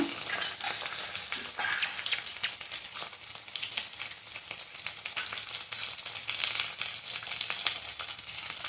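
Turmeric, cumin and chilli powders are sautéed in a pan for ridge gourd kofta, giving a steady close sizzle and frying hiss with light stirring scrapes throughout and no talking.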